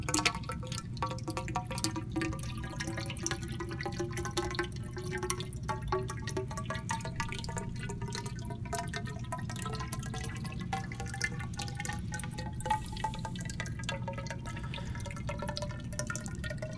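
Water filling a tube, its air-column resonance climbing steadily in pitch as the level rises, with a continuous watery trickle and drips underneath, steady and close, no talking.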